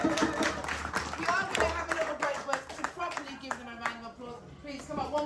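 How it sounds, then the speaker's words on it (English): An audience claps for playback theatre performers at a Black History Month event. Lively, uneven clapping runs throughout, with voices calling and talking over it and some louder bursts near the start and end. "Can we give them another round of applause?"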